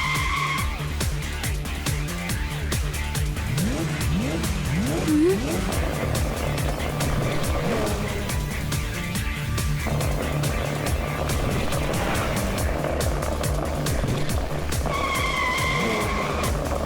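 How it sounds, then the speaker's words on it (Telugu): A cartoon car chase: an engine revs and roars throughout, with repeated sharp tire squeals and skids in the middle and toward the end, loud and busy, with voices and effects mixed in. "ఓ మ్యాన్, ఈ కారు నా వెనకాలే వస్తోంది"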